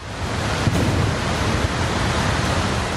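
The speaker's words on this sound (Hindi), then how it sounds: "ये तस्वीर हिमाचल के कुल्लू की है, जहां नदी अपने शबाब पर है। कल कल की जगह डरावनी आवाज सुनाई दे रही है।" A river swollen by floodwater in Kullu, Himachal Pradesh, roars with a steady, dense, loud rush of turbulent water that never lets up.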